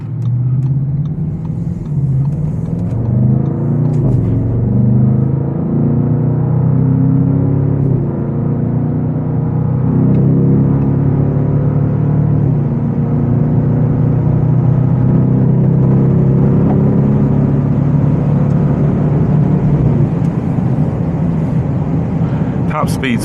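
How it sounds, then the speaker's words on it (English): An Audi RSQ8 SUV engine accelerating hard, a loud deep rumble rising in pitch through the gears as it pulls toward 100 km/h, heard from inside the cabin with someone talking over it. "I'll be able to give it the business here a little bit so you can see what the acceleration's like and how it sounds."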